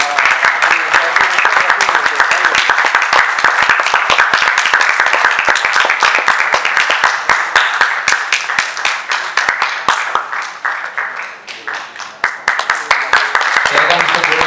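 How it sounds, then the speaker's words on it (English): Sustained applause from a crowd at a Founder's Day celebration, dense rapid clapping that stays loud for most of the stretch before thinning slightly and picking back up near the end. "Let's keep the applause going"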